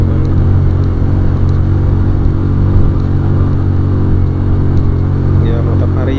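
An automatic scooter motorcycle rides along the route to Perantunan basecamp in Bandungan, its engine a steady loud rumble throughout, with road and wind noise mixed in.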